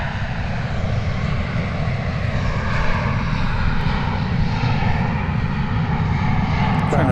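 A Contour Airlines passenger plane at Dallas/Fort Worth International Airport, its engines roaring loud and steady throughout, with the sound building slightly toward the end.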